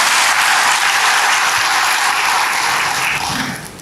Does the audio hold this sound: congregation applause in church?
yes